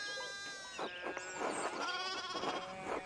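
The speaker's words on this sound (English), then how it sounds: "One of the fence rails fell off and the sheep started hopping it." Sheep bleat repeatedly in a farm scene of the Pentiment video game, several wavering calls overlapping at close range with no talk over them.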